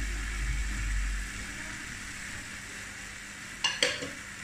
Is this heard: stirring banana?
yes